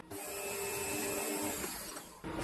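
A metal part is chamfered on its front face during work on a homemade ER32 collet spin indexer, giving a steady, bright, close machining whine with a thin tonal ring that runs for about two seconds and then stops.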